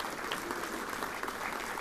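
A brief stretch of full, even audience applause at a folk education finale event, sustained throughout without pause.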